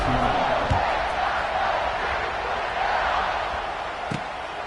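Stadium crowd before kickoff in the EA Sports College Football 26 video game, a steady, dense roar of many voices that holds throughout, with a couple of brief thuds.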